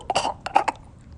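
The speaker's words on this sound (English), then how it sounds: "He coughs, clears his throat." A person coughs a few times in a short, close burst, then clears their throat, with quiet pauses between.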